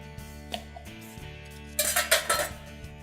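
Bacon is set onto a separate plate with its own knife while handling gluten-free food in a kitchen, giving soft clinks of metal on dishware, then a louder cluster of clattering plate and cutlery sounds near the end.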